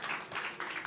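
Audience applause in a TV debate studio, a dense steady wash of clapping lasting about a second with slight swells, fairly loud and with no clear talk over it.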